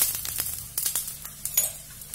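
A paste of ground pepper, cumin and garlic hits hot oil with a soft, crackling sizzle. A few sharp scrapes and taps sound over it, brief and close.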